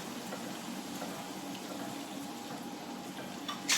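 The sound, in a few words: pasta water being poured into pan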